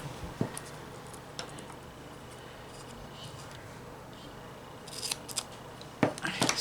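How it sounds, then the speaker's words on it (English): Scissors snip through a piece of Scor-Tape double-sided tape, giving a sharp close cut early on, then a cluster of quick crisp snips and rustling near the end over a quiet room. "I should just cut off a piece."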